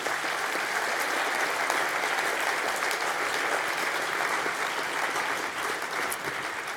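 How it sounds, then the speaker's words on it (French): Audience applause at a talk about peasant struggles, food and the planet under capitalism: dense, steady clapping from a sizeable crowd, holding at an even, fairly loud level throughout with no voices. "Oui, on peut applaudir."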